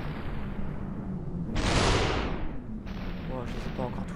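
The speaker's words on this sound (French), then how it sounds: "j'aime bien les fusillades comme ça" A gunfire shootout in the Superhot VR video game, heard as a loud, rushing burst of shots lasting about a second over a steady low backdrop, followed by quieter sounds and a faint voice.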